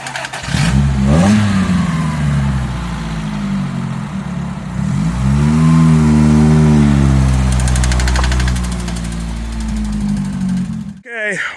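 The engine of a 1984 Toyota Tercel SR5 wagon runs and revs up and down in long swells, loud and close, ending with an abrupt clatter.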